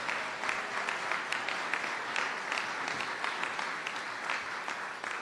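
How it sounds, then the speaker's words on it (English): A crowd applauds at a building dedication ceremony honoring Barbara Johns in Richmond, Virginia, a dense, steady wash of many hands clapping that holds evenly throughout at moderate distance. "please stand up and give them a great round of applause"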